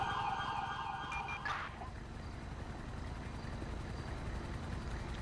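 An ambulance siren in the GTA V LSPDFR police mod wails briefly at the start, rising over a constant rumbling game ambience, then fades as steady background noise continues.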